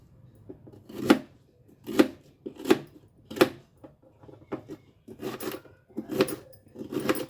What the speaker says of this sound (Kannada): ಎಷ್ಟು ಸಣ್ಣಕ್ಕಾಗುತ್ತೋ ಅಷ್ಟು ಸಣ್ಣಕ್ಕೆ ಹಚ್ಚು.